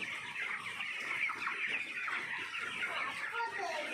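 Broiler chickens on a poultry farm cluck steadily while eating feed, a dense busy chorus of many birds close by filling the whole stretch with no gaps.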